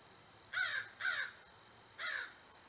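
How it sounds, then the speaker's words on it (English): Three loud, harsh crow caws ring out close by outdoors, two in quick succession and a third after a short pause, over quiet background hiss. "I got a crow squawking out here."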